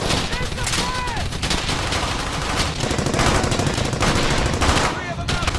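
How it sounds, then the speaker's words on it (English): Rapid machine-gun fire and bursts of gunshots as effects for a LEGO World War II film, loud and continuous for several seconds, with shouting voices mixed in. "Don't stop firing! Fire at him!"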